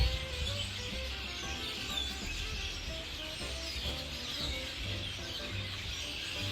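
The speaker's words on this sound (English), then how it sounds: "Sound of probably hundreds of red-winged blackbirds." Hundreds of red-winged blackbirds calling together outdoors, a dense continuous chorus of overlapping chirps and trills at moderate distance, steady throughout with no speech.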